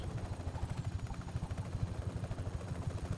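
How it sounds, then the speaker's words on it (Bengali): A video game helicopter's rotor thumps in a steady, rapid rhythm, fairly faint and low, with no talking. "শত্রু হেলিকপ্টার এসে পড়ছে"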